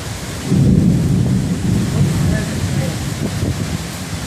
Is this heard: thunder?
yes